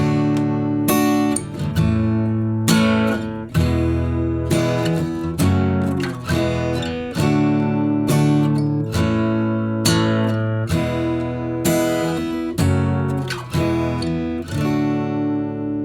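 Steady acoustic guitar strumming moves through a chord progression, with regular rhythmic strokes and chord changes every couple of seconds, close and full.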